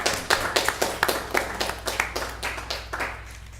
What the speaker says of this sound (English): I'll give applause to that